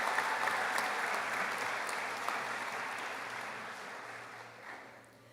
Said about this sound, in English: Please give them another round of applause for their commitment to excellence in their studies.